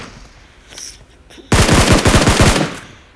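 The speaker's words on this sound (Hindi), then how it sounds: "मैं थोड़ी सी टैप फायरिंग दे रहा था कि उसको एक हिट पड़ जाए" Gunfire in an online battle-royale style video game: a few faint distant shots, then a loud burst of about eight to ten rapid, closely spaced tap-fired rounds lasting roughly a second.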